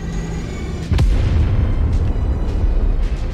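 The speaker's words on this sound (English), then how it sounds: "it's super cool when you walk away from the explosion" An explosion in the Mechwarrior 5 video game lands as a sudden deep boom about a second in, followed by a loud, sustained low rumble that carries through to the end without speech.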